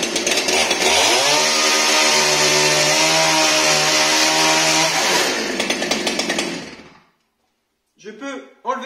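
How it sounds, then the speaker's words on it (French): A Husqvarna-style petrol chainsaw with a Powersharp chain-sharpening system, under 41 cc, starts and revs hard at close range for about seven seconds, holding a loud, steady whine before cutting off; a brief noise follows after silence. "Je démarre ma tronçonneuse."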